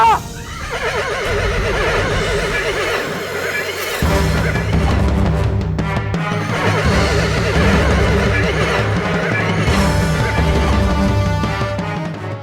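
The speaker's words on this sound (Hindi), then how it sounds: "लग रहा था कोई अश्व दौड़ रहा है।" A horse neighs loudly over a dense, dramatic soundtrack with galloping rhythm and booming accents, the whinny prominent at first and the pounding continuing throughout.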